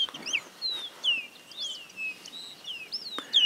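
A great kiskadee, or venteveo, calls repeatedly in rural countryside near Esperanza, Santa Fe, Argentina, its sharp descending whistled notes ringing clearly over a quiet background, several phrases in quick succession.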